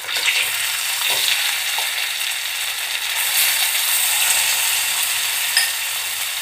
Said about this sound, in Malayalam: നന്നായിട്ട് പരിപ്പ് നെയ്യിൽ കിടന്ന് ചുരുണ്ട് വരണം. നന്നായി ഇളക്കി കൊടുക്കുക.